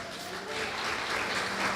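Brief burst of applause from a church congregation during a sermon, steady clapping from many hands filling the whole moment, fairly loud and close.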